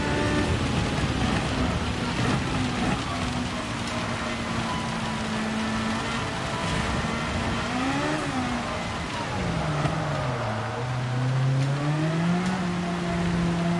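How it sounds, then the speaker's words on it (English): Steady rain and spray hiss in Gran Turismo 7 during a wet race at Le Mans in the Suzuki Vision Gran Turismo car, with a continuous engine drone rising and falling through gear changes underneath. "Oh wow, that's a lot of rain."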